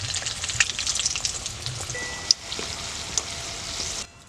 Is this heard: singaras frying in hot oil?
yes